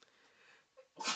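A single quiet sneeze, preceded by a soft breath in, ending in a sharp burst.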